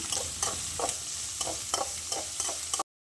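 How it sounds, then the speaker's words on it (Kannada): Onion and green chili frying in a pan for spinach dal, stirred in a steady rhythm: a continuous close sizzle broken by about eight regular scraping strokes, cutting off abruptly near the end. "ಈರುಳ್ಳಿ ಈಗ ಸರಿಯಾಗಿ ಫ್ರೈ ಆಗಿದೆ."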